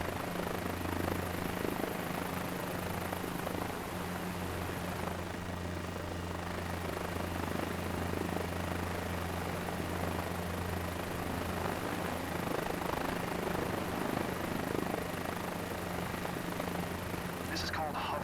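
Helicopter hovering out of ground effect in Microsoft Flight Simulator 2024 on Xbox Series X, a steady loud rotor and engine drone with constant low hum and broadband whine, continuous and unchanging throughout.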